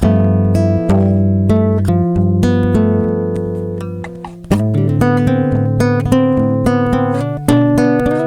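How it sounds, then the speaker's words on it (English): Dry, unprocessed nylon-string classical guitar recorded by direct input picks a steady fingerstyle pattern of plucked notes and chords, close and clean with audible finger attack. "By default, this guitar sounds like this DI'd."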